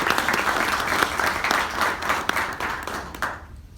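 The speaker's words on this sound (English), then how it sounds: "So let's give a quick round of applause." Audience applause at a New York industry panel on wireless connectivity in buildings, steady dense clapping from a room full of people that carries on for several seconds, then breaks off sharply near the end.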